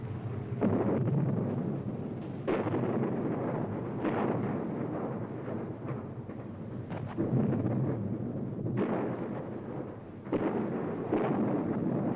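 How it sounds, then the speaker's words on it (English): Artillery fire from German 88mm anti-aircraft cannon shooting at British tanks in a desert battle, a series of heavy booming blasts at irregular intervals, each with a long rumbling tail. "the Germans make full use of their outstanding anti-aircraft weapon, the 88mm cannon"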